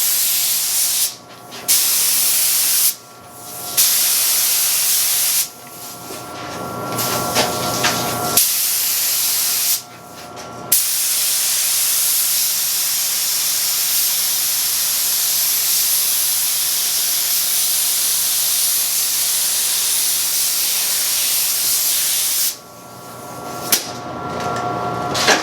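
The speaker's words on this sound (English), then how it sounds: "Okay, I'm going to spray the top of this." A spray gun hisses sanding sealer onto the top of a wooden plant stand in long, loud, close bursts separated by short pauses, with a sustained spray through most of the middle and a few quick passes near the end.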